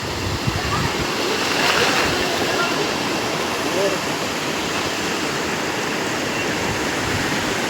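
A stream at Meenmutty flows after rain as a continuous broadband rush, close and steady, with no break in the water noise.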